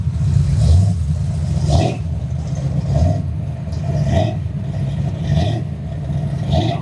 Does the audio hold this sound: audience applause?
no